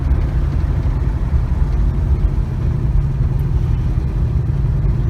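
LS-swapped Chevy Nova with a 6.0 V8 and a small cam, heard from inside while driving: a steady, loud, low engine rumble with a lumpy idle-like throb, constant throughout with no voices.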